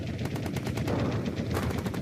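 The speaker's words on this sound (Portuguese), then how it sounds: "os fuzileiros se encontravam com uma rajada de tiros" Rapid machine-gun fire from a WWII battle on Iwo Jima: a dense burst of repeated shots in quick rhythm, loud and close, continuing for the full span.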